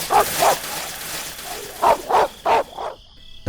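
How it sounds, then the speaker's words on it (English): Dog barking during a nighttime search, sharp piercing barks in two bursts, two close together, a pause, then four more in a quick run, loud and near. "The hind's piercing barks arouse the suspicions of the rest of the searchers"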